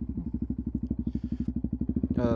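A motorcycle engine thumps in a rapid, steady pulse, close and loud, with a brief clatter near the end as a gear engages.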